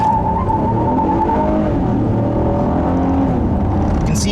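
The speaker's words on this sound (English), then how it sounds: "the wheel spin is constant on this car with front wheel drive" A 2015 Acura TLX V6 front-wheel-drive sedan is driven hard with its wheels spinning, giving a steady loud engine drone and road and tire roar heard from inside the cabin, continuous with no talking.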